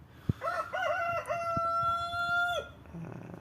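A rooster crows once up close, a clear drawn-out cock-a-doodle-doo that ends in a long held note, with faint background noise and a couple of soft knocks.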